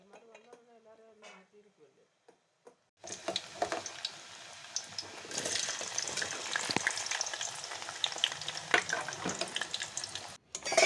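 Ordinary cooking rice dry-roasting in a pan over low heat. A voice speaks briefly, then a steady, close, gritty sizzle and rustle runs with scattered clinks of stirring against the pan until it stops abruptly near the end.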